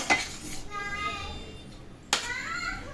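A metal lid clanks onto a pot of amla and jaggery cooking on the stove, giving two sharp clatters about two seconds apart while a voice talks nearby.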